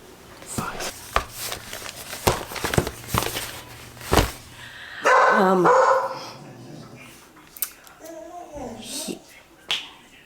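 A pet dog barks indoors on a morning before a trip, with several short sharp yaps and a longer burst near the middle, mixed with clicks and light handling noises, close by.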